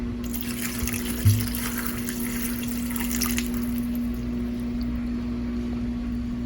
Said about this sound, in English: We're now going to go ahead and add in some apple cider vinegar.